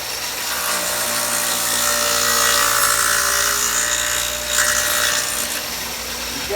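A power saw cuts red oak flooring with a loud, steady, close-up rasping whine that holds for several seconds and shifts slightly as the blade winds down. No one speaks.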